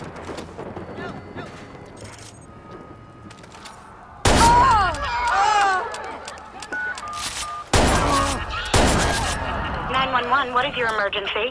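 Loud video game gunfire during a police shootout in Watch Dogs, set in Chicago: heavy bursts of shots erupt after a quieter stretch, with whining tones and voices amid the chaotic fire.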